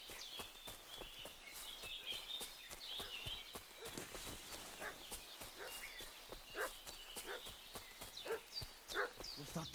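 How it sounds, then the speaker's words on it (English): A dog in Kingdom Come: Deliverance II barks repeatedly at mid-distance, the fuss carrying over footsteps and a steady outdoor ambience, with the barks growing more insistent toward the end. "What's that dog making such a fuss about?"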